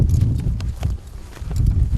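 A horse walks along in Mongolia with a rider on its back, its hooves giving soft, muffled, irregular thuds over a low rumbling background close by.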